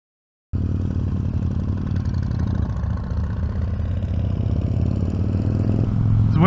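A motorcycle engine runs steadily during a ride on a Great Plains moto run, a low, even drone that starts abruptly and swells slightly near the end, with no talk.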